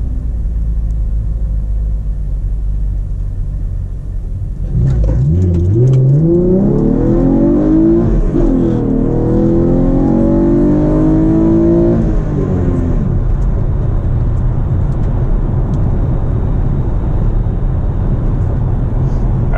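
A 5th Gen RS car pulls hard from a rolling start, its engine note climbing loudly through rising revs with a brief shift break, then settling into a steady cruising rumble, close and with no talk.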